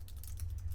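Quick keystrokes on a computer keyboard, a short burst of light, soft clicks in an uneven rhythm, close by and quiet, with no voices.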